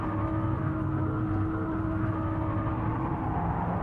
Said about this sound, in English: that might be somebody revving it